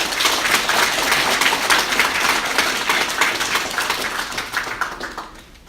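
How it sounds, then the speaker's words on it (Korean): Residents gathered at a neighborhood community event with the district head clap together in welcome, a steady dense patter of many hands that gradually thins and fades out over several seconds. "서로 환영하고 축하하는 박수를 해주시기 바랍니다."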